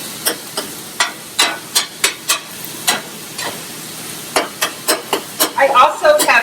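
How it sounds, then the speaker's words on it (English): Vegetables tossed into a hot pan of turkey sausage, loud close sizzling with rhythmic scraping stirs and clacks of the utensil against the pan, repeated strokes throughout. "I'm going to throw in some vegetables."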